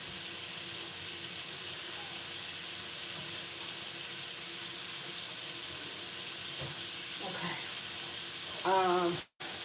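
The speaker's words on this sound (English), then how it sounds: "Wash my hands and a cutting board." Water running steadily into a kitchen sink while hands and a cutting board are washed, a constant hiss through most of the stretch with a few faint clinks, then a brief voice near the end.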